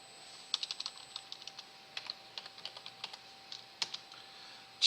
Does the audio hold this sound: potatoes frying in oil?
no